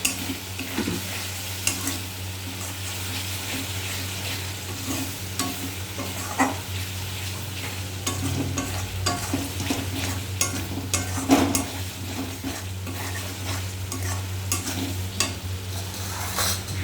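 Chilli powder and spices frying in a pan, stirred repeatedly with a spatula that scrapes and taps against the metal over a constant low sizzle, close and steady with no speech.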